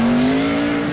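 Vaughn Gittin's Ford Mustang drift car at full throttle during Formula Drift qualifying, tires smoking, its engine a loud, close, sustained high-rev roar held at nearly constant pitch.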